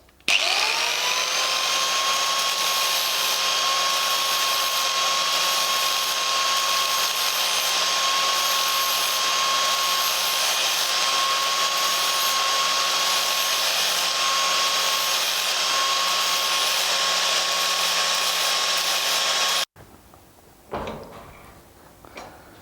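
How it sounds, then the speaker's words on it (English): An angle grinder works a metal part clamped in a vise, giving a steady, loud, high-pitched whine for about twenty seconds before it cuts off, followed by a few brief clanks. "Slip it in the vise, the angle grinder."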